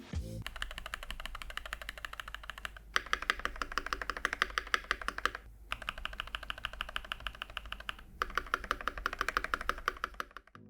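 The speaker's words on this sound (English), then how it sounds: "we actually installed the Anubis switch on this keyboard compared to the Gateron Phantom Red switch, which is much more clacky" Typing on a Keychron V1 custom keyboard fitted with Anubis and Gateron Phantom Red switches gives a quiet, close, steady patter of keystrokes in three bursts separated by brief pauses.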